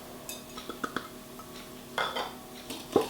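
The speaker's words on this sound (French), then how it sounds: "mélanger notre sucre avec le beurre" Sugar being mixed into butter in a bowl for an apple cinnamon cake, a utensil scraping and clinking against the bowl in irregular strokes, close and moderately quiet with no talking.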